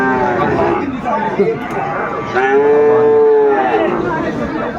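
Cattle at a livestock market moo loudly and repeatedly, with long drawn-out calls rising over a background of crowd chatter and people talking.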